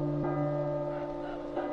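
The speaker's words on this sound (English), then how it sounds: "is the ringing of the bell happening at any particular time?" A bell rings in a PlayStation 4 game, struck twice with a sustained, humming metallic tone that lingers steadily between the strikes, fairly loud and heard alone.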